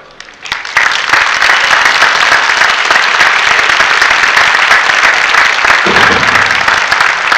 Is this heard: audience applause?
yes